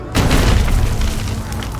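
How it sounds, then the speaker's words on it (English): A bombard, a large stone-throwing gun used against castle walls in the Hundred Years War era of Age of Empires 4, gives one heavy booming blast that rolls on as a long, loud rumble. "This is a large stone-throwing gun for moving big projectiles like this up and over and through castle walls."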